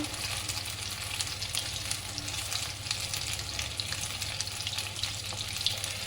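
Soybean and potato pakoras fry in hot oil with a steady, close, dense sizzle that carries on without pause, no voices over it.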